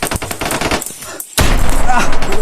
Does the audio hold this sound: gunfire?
yes